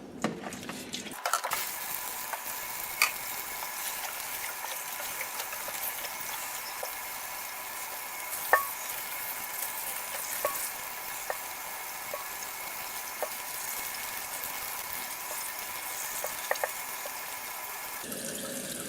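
Ice-dyed tie-dye fabric rinsed under a running tap, a steady hiss of flowing water lasting most of the stretch with occasional small knocks and splashes, near and moderately quiet, stopping abruptly at the end.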